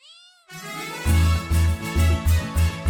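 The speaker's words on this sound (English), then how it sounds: "C for cat." A cat meows repeatedly, a series of about six loud, clear, close meows in quick succession following a brief higher tone at the start.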